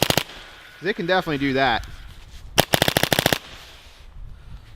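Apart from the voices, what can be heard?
paintball marker shooting over chronograph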